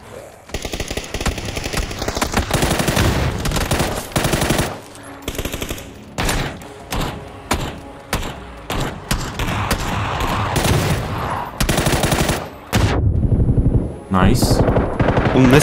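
Loud machine gun fire rips through a zombie shooter video game in rapid bursts separated by brief pauses, with dense, close, continuous gunfire.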